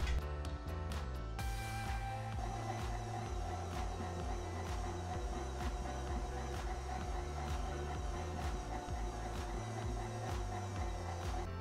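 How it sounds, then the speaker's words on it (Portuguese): A stand mixer beats cinnamon roll dough at low speed, a steady, loud mechanical whir with a constant hum and rhythmic ticking, running unbroken and close with no talk. "eu vou bater essa mistura por aproximadamente 15 minutos em velocidade baixinha"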